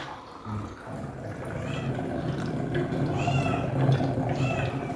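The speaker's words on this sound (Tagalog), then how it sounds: "Ang gulo ng pusa ko." A cat meows a few times, mid-distance, over a steady background of room noise and low murmuring voices.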